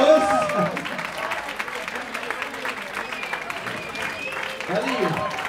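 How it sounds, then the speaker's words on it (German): A live audience applauds a guitarist at a band show, a steady wash of clapping throughout, with a host's voice talking over the start and end. "Applaus!"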